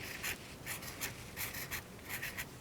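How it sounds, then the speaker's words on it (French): A blue pen writes letters on paper during a children's drawing tutorial, making a close series of short, scratchy strokes in an uneven rhythm, with no voices. "Maintenant, je prends le bleu et j'écris"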